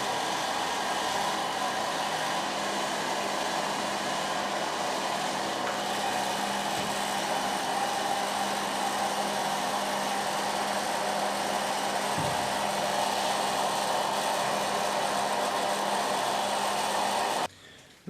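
A hair dryer blows steadily on curly hair, its constant loud whirring rush staying level throughout before cutting off abruptly at the very end.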